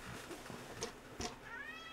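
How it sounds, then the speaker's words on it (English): A cat meows faintly a few times during an Atari 2600 arcade game live stream, brief soft cries against quiet background noise, with a rising tonal sweep near the end. "Look at that cat."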